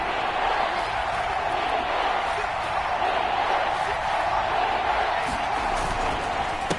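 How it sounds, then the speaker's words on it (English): A dense football stadium crowd roars continuously during a Bears versus Dolphins NFL game, a loud steady wash of cheering with faint commentary beneath. "This crowd dying for a stop."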